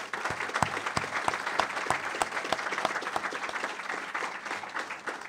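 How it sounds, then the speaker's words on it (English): A room of guests applauds award winners at a golf professionals' awards event, sustained crowd clapping with distinct individual claps popping out, moderately distant and steady throughout. "let's all just give all of our award winners one more final round of applause"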